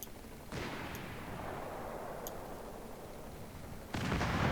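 In Company of Heroes 3, an artillery crew fires, giving two heavy booms, one early and one near the end, with a long rumbling roll of distant battle noise between them and no talking.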